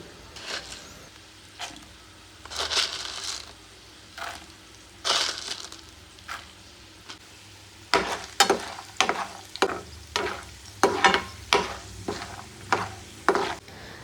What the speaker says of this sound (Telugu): ఇప్పుడు ఒక టీ స్పూన్ ఆవాలు టీ స్పూన్ జీలకర్ర టీ స్పూన్ మినపప్పు అలాగే రెండు టేబుల్ స్పూన్స్ పచ్చి శనగపప్పు వేసి వేయించాలి